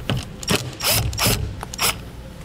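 A ratchet backs Phillips screws out of an interior vehicle panel on a 2014 vehicle, giving close, loud bursts of clicking pawl ticks in short repeated strokes.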